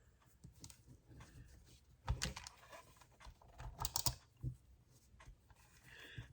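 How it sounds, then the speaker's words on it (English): Adhesive tape pulled and pressed onto scrapbook paper for an autumn layout, a run of soft crinkly clicks and snaps with a few sharper pulls, close and quiet, no talking. "And then I'm going to tape it down this way."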